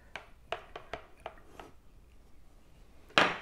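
LECA clay pebbles are mixed by hand, giving a quick run of light, dry clicking rattles followed by a quiet pause and one louder rustling shuffle at the end, with no talking.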